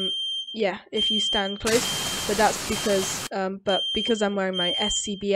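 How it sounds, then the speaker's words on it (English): A fire alarm in Roblox Liberty County beeps with a steady high tone in the background beneath continuous talking, while a burst of hissing noise from fire or spray briefly covers it midway. "you can hear the fire alarm actually in the background."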